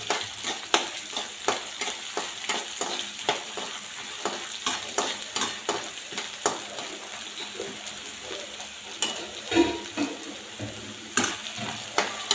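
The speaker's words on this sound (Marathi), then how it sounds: "यामध्ये हे शेंगदाणे घालून घेऊ। शेंगदाणे छान तळून घ्यायचे।" Peanuts fry in oil for kande pohe under a constant close sizzle, with repeated sharp clacks of a spoon stirring against the pan throughout and no voices.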